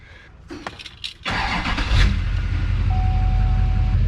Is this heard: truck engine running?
yes